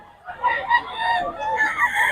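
Chickens and a rooster crowing, the cock-a-doodle-doo calls and clucks fairly near and continuous across the short stretch, with no talk over them.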